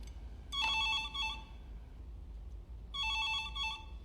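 A landline telephone rings in two separate bursts of bright electronic trilling with a pause between them, heard alone over a low background hum and fairly faint.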